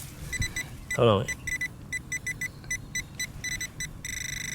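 A metal detector pinpointer beeps in short rapid pulses, then a steady tone, with a brief spoken remark near the start.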